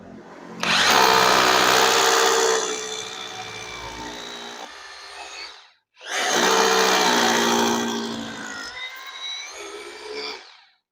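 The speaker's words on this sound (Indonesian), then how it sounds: "cukup mudah ya teman-teman untuk menggunakan bor beton yang 8 mili" A power drill fitted with an 8 mm concrete bit bores into a surface in two loud sustained bursts. Each burst runs a few seconds with a steady high whine and grinding, separated by a short pause, close and dominant with no speech over it.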